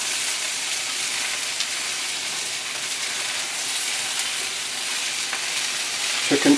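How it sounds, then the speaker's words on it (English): Battered chicken pieces fry in shallow, nearly spent oil for orange chicken, giving a steady, close hiss and crackle that holds evenly throughout, with a few faint pops near the end. "chicken is cooking beautifully, and if you notice, that oil is almost gone"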